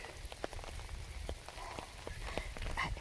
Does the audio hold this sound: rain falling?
yes